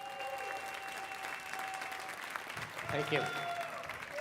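Audience applause at the opening talk of the amoConf tech conference as its founder and CEO takes the stage, steady and full throughout, with someone briefly saying thanks over it near the end.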